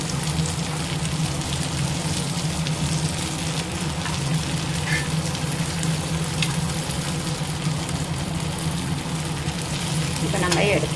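Egg masala fry sizzles steadily in a hot pan, a continuous close crackle of oil with faint clinks and stirring noises near the end.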